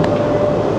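Steady roar of a metro train at Paral·lel station in Barcelona, loud and continuous for under a second with no voices over it.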